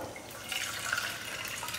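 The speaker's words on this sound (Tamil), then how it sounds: "ஊற வச்சுட்டு இந்த தண்ணி எல்லாமே சுத்தமாக வடிச்சிடலாம்." Water drains off raw rice that has soaked for half an hour, a steady soft splashing trickle heard close and alone throughout.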